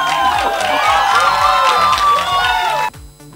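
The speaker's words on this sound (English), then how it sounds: "round of applause, ladies and gentlemen" A large film promotion audience roars with cheering, whoops and shouting mixed with applause, dense and excited, then cutting off abruptly near the end.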